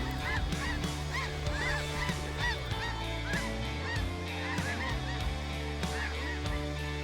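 A large flock of snow geese honks continuously, many overlapping nasal calls at close and middle distance over a steady background rush, with no voices.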